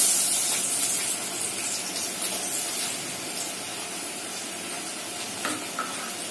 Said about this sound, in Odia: ତେଲ ଗରମ ହୋଇଛି, ଚିନି ପୁରା ଉପରକୁ ଗରମ ଯଦି ଅଛି ପିଆଜ ପକେଇ ଦେଇଛି।